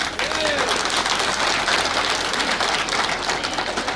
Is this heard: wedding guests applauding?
yes